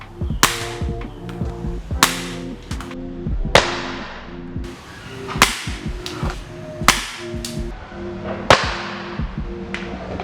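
Airsoft SVD sniper rifle upgraded with a Ronin Creative Works inner barrel and chamber, firing 0.2 g BBs outdoors at targets 50 to 60 metres away: a string of sharp, loud cracking shots at irregular intervals, with some ringing in between.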